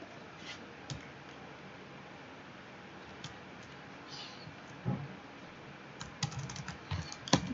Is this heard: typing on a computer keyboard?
yes